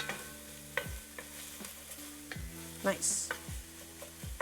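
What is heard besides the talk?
potatoes sizzling and sauteing in a pot, being stirred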